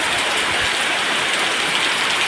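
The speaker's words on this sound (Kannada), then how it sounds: "ಊರು ಮಳೆ ಗಾಳಿ ಸಹ ಬರ್ತಾ ಉಂಟು." Steady rain falls on a home during the monsoon with wind, a dense, even hiss that continues without a break and is close and fairly loud, with no voices.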